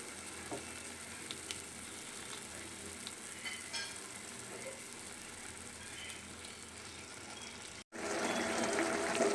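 A small glass of water goes into a pan of cooking capsicum. A low steady sizzle breaks off briefly, then a louder, rushing hiss of liquid hitting the hot pan takes over.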